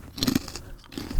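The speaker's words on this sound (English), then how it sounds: "You can hear me crunching." Someone bites into a garlic pickle up close, giving a few wet, crisp crunches followed by softer chewing.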